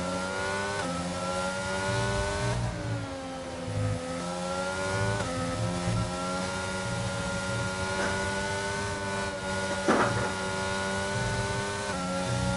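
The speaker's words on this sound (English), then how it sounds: "I love listening to the throttle input from Jensen." In a Formula 1 racing game at the Mexican Grand Prix, a single car's engine screams at high revs, its pitch rising and dropping as the throttle comes on and off and gears shift, loud and close throughout.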